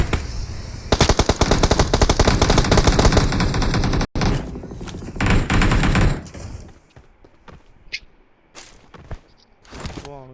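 BGMI battle royale game gunfire: long bursts of rapid automatic fire fill the first six seconds, then scattered single shots and clicks fade out, with gamers talking faintly in the background.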